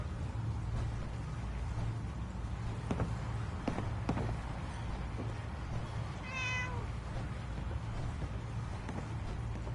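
A cat meows once in a video game, a short rising-falling call set against a low steady ambient hum, with a few faint taps and footsteps scattered around it and no talking.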